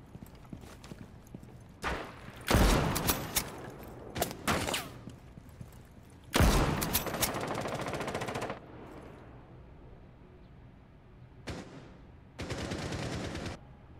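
Gunfire in the tactical shooter Rainbow Six Siege, with bursts of automatic fire and single shots coming in loud, close clusters separated by short quieter gaps.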